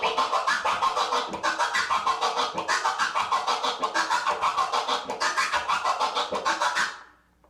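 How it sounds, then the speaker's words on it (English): DJ transformer scratch on a vinyl turntable, with a fast, even stutter of chopped scratch bursts repeated continuously for about seven seconds before stopping abruptly, loud and close with no talking. "where the transformer sounds like this"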